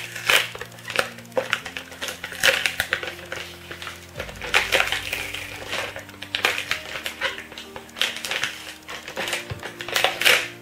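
A black plastic bag wrapping a K-pop mini album is pulled and torn open by hand, giving close crinkling, crunching rustles in uneven bursts as the sticky, glued wrap comes apart.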